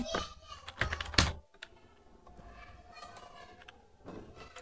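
Quick keystrokes clatter on a computer keyboard as a command is typed. A brisk burst of close, crisp taps comes first, then fainter scattered presses follow in a quiet room.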